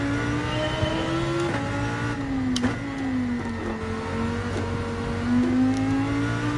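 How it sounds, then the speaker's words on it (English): A car engine in the racing video game Gran Turismo 7, a steady loud mechanical drone throughout with the revs rising and dipping slightly, and no talk. "Just got to get the revs up in this machine"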